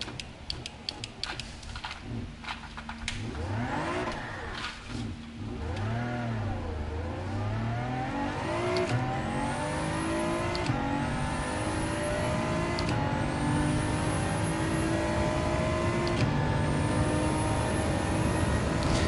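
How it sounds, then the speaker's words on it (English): A Gran Turismo race car engine revs hard and climbs through the gears, each shift marked by a brief dip before the pitch rises again, loud and close throughout. "And this is a race car."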